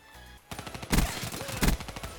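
Shots in a shooter video game, a few loud bangs and short bursts after a quiet start, close and punchy with no talk over them.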